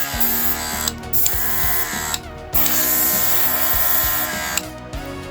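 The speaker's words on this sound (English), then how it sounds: "once you press your trigger, the air compressor will kick on" An imyyds electric airbrush's built-in air compressor runs with a steady buzzing, rattling mechanical whir, close and fairly loud, broken by a few brief pauses and restarts.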